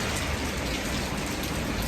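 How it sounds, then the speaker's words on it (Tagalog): Heavy rain in Dubai pours steadily and loudly, a dense, unbroken hiss of drops with no voices. "Kasi sobrang lakas ng ulan."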